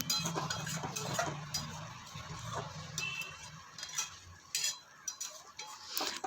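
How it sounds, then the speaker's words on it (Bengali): A spoon stirs eggplant curry in a pan with soft scrapes and light clinks that come irregularly, fairly quiet and close by. "দিয়ে আমি হালকা হাতে সমস্তটা নাড়িয়ে চাড়িয়ে নিচ্ছি"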